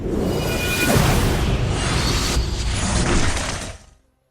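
A laser pistol fires in an action fantasy fight, giving a dense, continuous crackling mechanical burst with ratcheting, shattering texture. It runs loud and steady for about four seconds, then cuts off abruptly.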